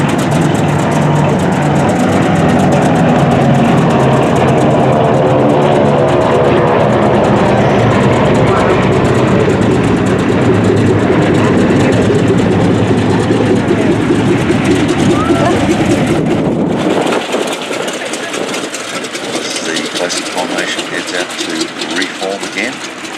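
Aircraft taxi down the flight line at the Duxford Flying Legends airshow, a loud continuous engine drone that drops off sharply near the end, with an announcer's voice over the top.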